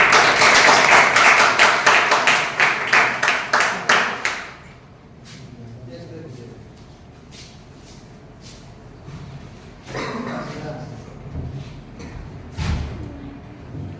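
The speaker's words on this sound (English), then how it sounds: "So please give him a round of applause." Classroom applause for a student at a speech competition: a burst of brisk clapping from a small group, fairly close and loud, fading after about four seconds into quiet room noise with faint talk and shuffling.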